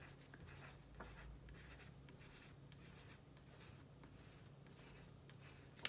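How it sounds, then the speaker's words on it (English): A pen or pencil draws small, tightly packed circles for a sunflower's centre, giving soft, continuous scratchy strokes in quick repeated bursts, close and faint. "So I'm going to start by drawing those circles really tightly packed close"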